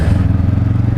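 Honda CB 500 F motorcycle from 2019 riding along, its engine giving a steady, close, loud low rumble with a pulsing rhythm and no talk over it.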